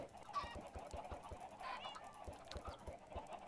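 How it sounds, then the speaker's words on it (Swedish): Chickens cluck softly in Minecraft, a few short bird calls scattered over a low, steady background with rhythmic thumps. "Jag spånar mer kycklingar."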